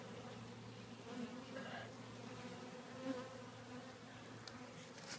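Bees flying in and out of an old hive on a warm day make a steady, close buzzing drone, with single insects passing near now and then.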